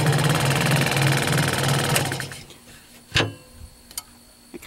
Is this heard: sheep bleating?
no